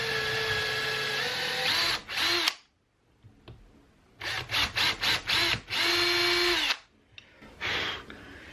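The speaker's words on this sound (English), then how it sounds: "take a drill bit and drill straight through the back hole here" A power drill whines in several bursts, revving up and slowing as its bit bites through wood for a workbench vise, with short pauses between runs.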